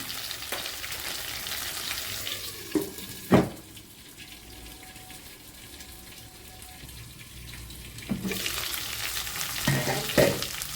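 Eggplant cooking covered over a low flame for Andhra-style stuffed eggplant biryani, a soft continuous sizzle with a few sharp clatters of the lid or spoon at the start and end, quieter in the middle.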